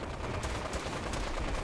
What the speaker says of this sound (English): What's that machine gun noise that I keep hearing?